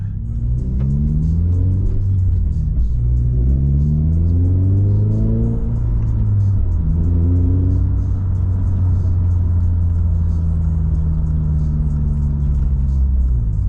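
A 2022 Subaru BRZ with a six-speed manual gearbox drives steadily, revving up and dropping through several gear changes, with a constant low road rumble throughout.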